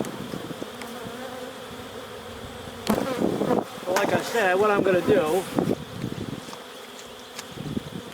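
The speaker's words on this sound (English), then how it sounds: "not like making about 1 million bees angry, huh?" Angry honeybees, roughly a million of them, buzz around an open hive during a varroa mite treatment. A dense, steady buzzing swarm fills the scene throughout, with someone talking over it in the middle.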